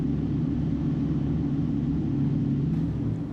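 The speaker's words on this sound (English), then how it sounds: "We have a pair of 350 horsepower Suzuki outboards." Twin 350-horsepower Suzuki outboards with double counter-rotating propellers on a Ranieri Cayman 38.0 Executive Trofeo boat give a steady, deep engine rumble and drone, constant and fairly close throughout with no talk.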